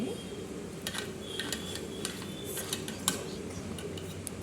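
A knife spreads butter on sandwich bread at close range, with soft scraping strokes and light clinks of the utensil against a plate, set against a faint background hum.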